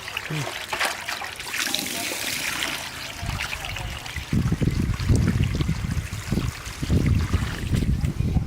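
Water pours and splashes over catla fish being rinsed, a steady close trickle with bursts of sloshing, while people talk intermittently.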